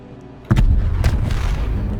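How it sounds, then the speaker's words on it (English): A volley of battleship cannons, Mark 1 and Mark 2 types mounted in a forward column on a warship in the Space Engineers video game, fires as one sudden loud boom that rolls into a heavy, sustained rumble. "Just a free column of cannons on the front. Give us a volley."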